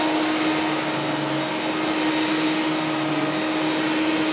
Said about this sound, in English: the vacuum itself, without the hose attachment and stuff in it, is pretty loud